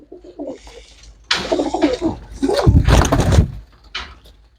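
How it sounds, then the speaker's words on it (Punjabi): Pigeons kept for sale coo in soft, throaty bursts at close range, broken by a few louder knocks and rustles from their enclosure. "ਲੋ ਬਾਈ ਕਬੂਤਰ ਚੈੱਕ ਕਰੋ ਬਾਈ ਇੱਕ ਤੋਂ ਇੱਕ ਕਬੂਤਰ ਹੈ"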